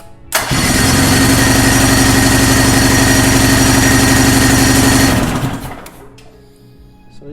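An old outboard boat motor is cranked over with the throttle partly open, a loud, rapid, steady chugging close by for about five seconds, then winding down and stopping without catching.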